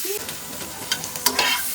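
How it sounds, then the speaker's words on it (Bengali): Potatoes frying in a pan of hot oil for a simple home-style greens dish, a steady sizzle with a few sharper crackles and spatula scrapes toward the end. "মাছ ভাজা হয়ে গেল, আলুটাকে ভেজে নেব।"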